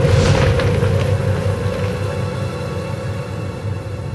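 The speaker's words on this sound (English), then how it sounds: "an American hydrogen bomb test in the South Pacific yielded 3 times more destructive power than expected" Deep, rolling boom from an American hydrogen bomb test in the South Pacific, a loud low rumble that slowly fades with a steady hum beneath it.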